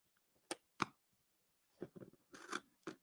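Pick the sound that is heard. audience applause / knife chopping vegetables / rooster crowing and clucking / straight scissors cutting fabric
straight scissors cutting fabric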